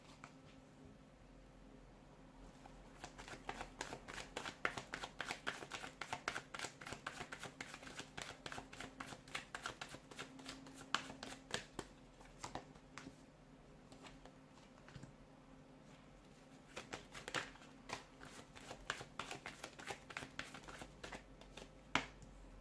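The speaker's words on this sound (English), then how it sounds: "give the cards a shuffle" Tarot cards being shuffled by hand, with a steady run of crisp riffling clicks and soft slaps that pause briefly, then start again, close and quiet, with no talking.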